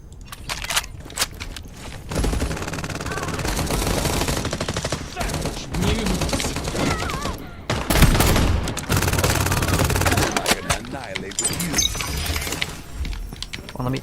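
Gunfire from weapons in the video game FragPunk crackles in dense bursts across the clip, rapid volleys broken by short pauses and sharp impacts, loud and close with game sound effects mixed in.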